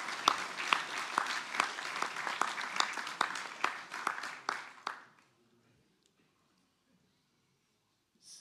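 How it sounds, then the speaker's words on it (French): An audience at a hunters' federation general assembly applauds a guest, a loud crowd of clapping with distinct sharp claps that fades out after about five seconds into near silence. "Vous pouvez l'applaudir."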